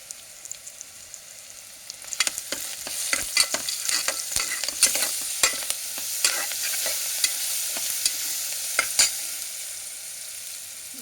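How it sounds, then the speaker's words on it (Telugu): Ginger garlic paste sizzles in hot oil while being stirred for a mutton curry, a steady frying hiss broken by frequent scraping strokes of a spatula against the pan, close and continuous. "అల్లం వెల్లుల్లి పేస్ట్ వేస్తున్నాను."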